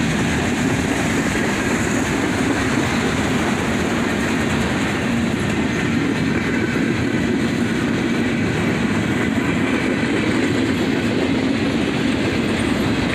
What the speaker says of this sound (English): a big manifest train, pulled by an AC-44C6M, a -9, and an SD-70 ACU, rebuilt from an SD-90mac.